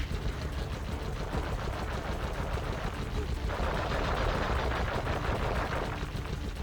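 Rapid gunfire in the video game Sly Cooper and the Thievius Raccoonus, a dense continuous burst of shots at moderate level that thickens midway, with no talk over it.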